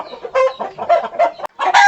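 Chickens on a hobby poultry farm cluck in quick, loud bursts close by, one call running after another with no talk.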